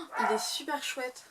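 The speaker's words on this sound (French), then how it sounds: "désolée pour les aboiements de chiens" Dogs bark and yip briefly in the background while a person talks close to the microphone.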